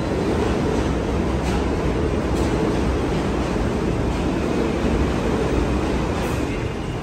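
A New York subway train rumbles through the underground, a loud continuous low roar and rattle of rail cars that stays steady throughout without voices on top.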